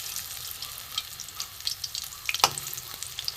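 Papad fries in oil over low heat with a light, crackling sizzle and small bubbling pops, plus a brief clink of a utensil partway through, with no voices.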